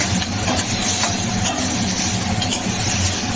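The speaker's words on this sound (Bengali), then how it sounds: "আলু আর নারকেল আগে দিয়ে দিই, এটা একটু ভাজা ভাজা করে নিই" Potato and coconut fry in a pan for a Bengali young jackfruit dish, giving a loud continuous sizzle and hiss with occasional crackles and faint stirring, with no voices.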